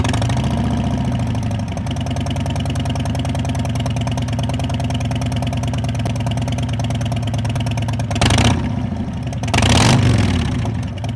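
Harley-Davidson Milwaukee-Eight Softail engine running steadily on a dyno through a baffleless OEM muffler with Thunder Torque inserts and high-flow air cleaner, a loud continuous throbbing idle with two brief louder bursts near the end.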